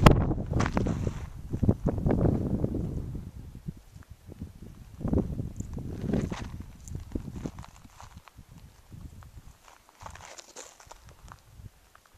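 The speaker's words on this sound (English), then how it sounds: "Obviously a few wind gusts." Gusts of wind in the Mojave Desert buffet the microphone in several rumbling bursts, fading to quieter rustling between them, with occasional footsteps of a backpacker.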